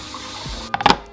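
Water from a tap splashes in a few quick bursts over a freshly scaled fish being rinsed, loud and close, following a quieter stretch.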